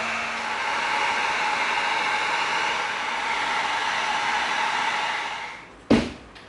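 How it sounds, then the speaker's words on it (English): A heat gun blows steadily as it seals EVA foam, a continuous broadband hiss that holds level for several seconds, then cuts off abruptly, followed by a brief sharp knock. "let's get our heat gun going. Let's seal this up."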